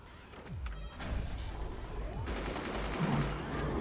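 Rapid gunner fire in the strategy game Forts, a dense rattling burst of repeated shots with a couple of sharp whooshing impacts, loud and continuous over a rumbling battlefield background.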